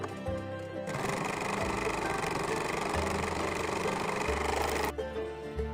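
A serger overlock sewing machine stitches jersey fabric: a fast, loud, steady mechanical whirring burst of about four seconds, with quieter machine hum before and after.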